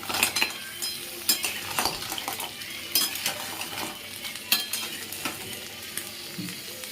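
Half a kilo of crab frying in a pan for a Bengali-style curry, with continuous sizzling and repeated stirring scrapes and metal clinks of a spatula against the pan, close and busy, no voices.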